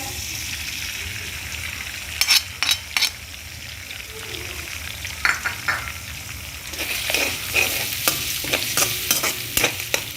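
Two eggs drop into a pan of golden fried onions, and a loud close sizzle rises, broken by a few sharp clinks and stirring scrapes of a utensil against the pan.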